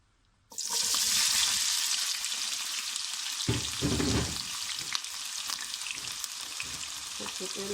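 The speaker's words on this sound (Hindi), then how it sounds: "सबसे पहले हम प्याज फ्राई करेंगे।" Onions hit hot oil in a pan for an aloo gosht curry and burst into a loud, close sizzle after a brief quiet moment. The hiss stays dense and steady, with a low rumbling stir partway through.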